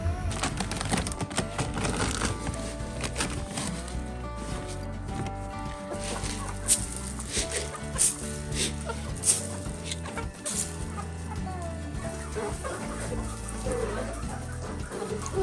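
Homestead chickens clucking at close range, with steady overlapping calls and brief louder squawks that rise over a dense backdrop of other birdsong and ambient noise.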